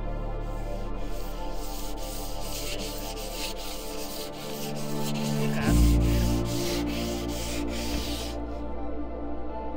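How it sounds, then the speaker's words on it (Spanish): Steady back-and-forth rubbing of sandpaper on a surface, repeated strokes continuing for the whole stretch with a low hum underneath. "hay que lijar"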